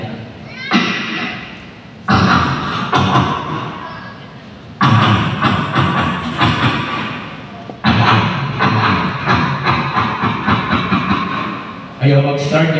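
A voice imitates a car engine: breathy, rumbling bursts in several separate sputtering runs with pauses between, like an engine trying and failing to start and overheating.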